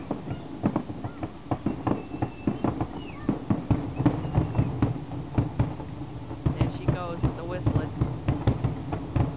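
Fireworks bursting over the town of Gloucester, a dense run of sharp bangs and crackles at a steady pace, with someone talking over them and distant whistling.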